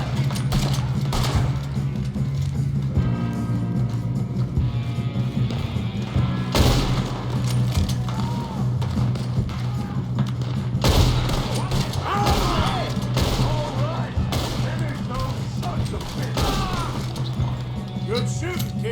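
Gunfire in Red Dead Redemption 2 during a shootout, with repeated sharp shot bursts and crashes over a steady low game soundtrack and ambience, while voices talk amid the fighting.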